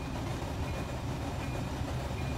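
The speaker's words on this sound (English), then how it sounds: "the rail cars could sound a little bit loudly" Rail cars rolling along track in a Roblox train game, a steady dense rumble and rattle holding constant and fairly close, with no voices.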